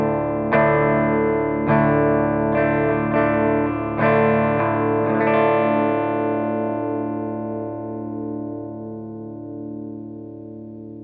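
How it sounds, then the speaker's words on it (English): Electric guitar played through a Roland Spirit 30 amp with wah and gain pedals: several distorted strums struck in succession, then a long sustained chord ringing out and fading. "Here's the dry amp, the Roland Spirit 30 run through the wah and gain pedals."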